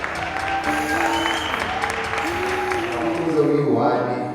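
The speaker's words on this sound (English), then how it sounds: "can I please just ask you guys to give yourself one warm hand of applause" Audience applause at a university gala dinner, steady clapping for several seconds beneath a voice speaking over it, ending in a cheer.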